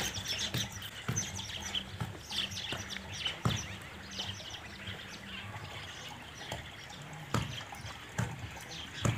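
Birds chirp and sing among green trees, with several near and far calls and sharp tweets scattered over a soft background of rustling ambience.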